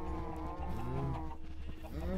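Cows moo in the Minecraft video game, several drawn-out game-style calls layered over steady background music and ambience, fairly close and moderately loud.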